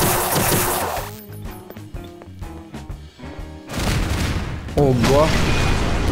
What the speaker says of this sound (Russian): А ты что там взрываешь такое мощное?